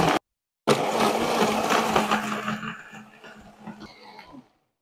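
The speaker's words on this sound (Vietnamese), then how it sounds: "Thì đầu tiên thì các bạn sẽ bật máy là bằng cái nút Pulse nhé, để mình phá ma đá ra trước nhé." Promix blender run on pulse crushing ice for a mango and passion fruit smoothie: a loud grinding whir lasting a few seconds, then easing into sputtering bursts as the motor winds down.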